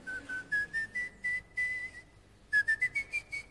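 A person whistles using mouth and tongue, producing a series of short, rising pitched notes in two bursts with a brief pause between, clear and fairly close.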